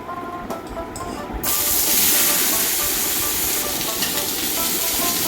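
Washed, chopped vegetables (squash, pointed gourd, eggplant, potato, jackfruit seeds) go into a hot pan with panch phoron spices, and a loud, steady hiss swells up right after the drop and keeps sizzling close by.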